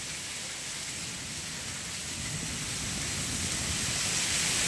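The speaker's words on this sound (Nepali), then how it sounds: "पुरै असिना परेर बर्बाद भइगयो" Rain and hail beat down in a dense, continuous roar of hiss that grows slightly louder throughout, steady with no talk.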